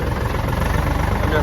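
A farm tractor idles nearby with a steady, loud low rumble that holds evenly throughout a short stretch.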